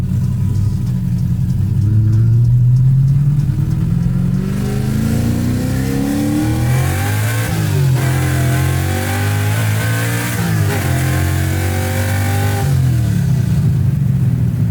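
A track-built 1965 Ford Mustang Fastback engine revs hard and climbs in pitch as it accelerates, loud and close, with several rising sweeps and a deep rumble underneath.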